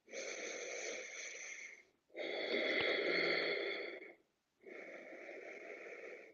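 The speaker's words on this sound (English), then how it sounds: "Breathing." Breathing during a yoga session comes as three long, steady breath sounds, loud and close with a hoarse, airy rasp, separated by brief silences.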